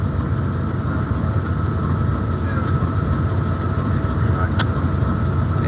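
A steady low diesel rumble of idling Amtrak California Zephyr locomotive engines at a station stop in Ottumwa, Iowa, continuous and fairly loud, with a faint brief rattle near the end.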